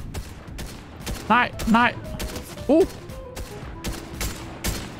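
Gunfire in a Danish video game match: several short bursts and single shots spread across five seconds, mixed with game sound effects, while a player speaks briefly.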